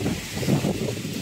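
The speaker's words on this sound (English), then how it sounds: "So windy." Wind buffets the microphone in a low, rumbling roar, steady and close, with no voices.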